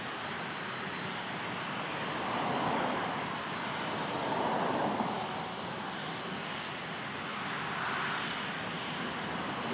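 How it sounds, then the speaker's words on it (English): A China Southern Boeing 777-300ER landing on runway 23 at Toronto Pearson, heard as a fairly distant, soft engine rumble that swells and fades gently in waves, with no voices. "China Southern 777 coming to runway 23"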